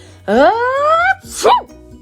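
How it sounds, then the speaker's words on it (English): A voice acts out a sneeze, a drawn-out rising 'ah-ah' followed by a sharp, breathy 'choo', loud and close. "Spike sneezes."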